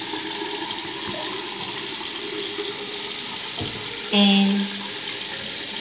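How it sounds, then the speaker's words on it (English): Running tap water pours steadily into a sink during handwashing with soap, a continuous hiss with a short louder burst near the end and a brief spoken word. "I wash my hands. I take soap and wash my hands with this."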